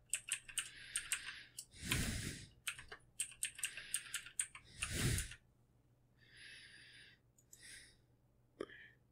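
A password is typed on a computer keyboard in quick clusters of close, crisp key taps separated by short pauses, with a few louder thumps and breaths mixed in.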